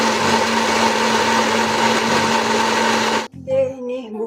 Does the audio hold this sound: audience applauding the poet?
no